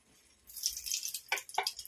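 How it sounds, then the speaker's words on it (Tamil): Cooked rice being drained in a home kitchen, water pouring and splashing steadily in a bright hiss with a few louder gushes and drips, close by and with no talk. "வெந்துடுச்சு சாப்பாடு வடிக்க போறேன்"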